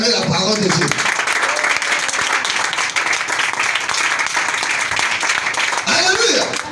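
A church congregation applauding loudly and steadily for several seconds, and a voice speaks over the clapping at the start and end.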